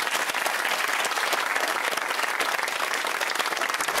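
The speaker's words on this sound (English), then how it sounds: "Big round of applause for John and Paul McLaughlin." A game show studio audience gives sustained, dense applause, steady and fairly close throughout with no voices over it.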